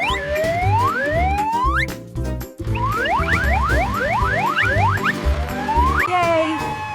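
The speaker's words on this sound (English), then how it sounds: "Ambulances use sirens to move fast" An ambulance siren wails loudly and close by, its rising sweeps repeating one after another over a steady drone, with only a brief gap partway through.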